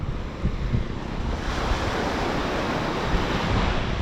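Sea waves wash onto a beach in Zambales, a continuous broad roar of surf mixed with wind buffeting the microphone, steady and fairly loud with no voices.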